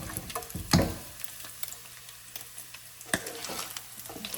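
Bacon frying in hot oil in a pan with the heat just turned off gives a soft, steady sizzle, with a few close clinks and stirring scrapes from a utensil moving through the grease.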